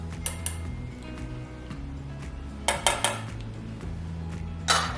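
Parmesan cheese being whisked into a thick mayonnaise-style Caesar dressing, with soft clinks and scrapes of a whisk against a bowl and a few sharper metallic taps over a steady low kitchen hum.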